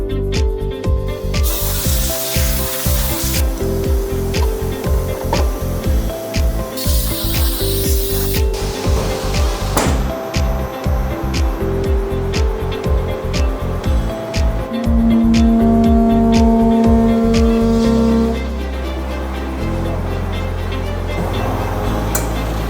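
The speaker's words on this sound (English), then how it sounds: "We will use this vibration welding machine to seal it up." A vibration welding machine seals a clear tail light lens for a Mazda Miata NC, giving a loud, steady mechanical buzz and hiss that runs without a break and shifts pitch near the end.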